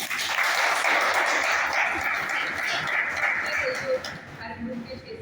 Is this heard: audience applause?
yes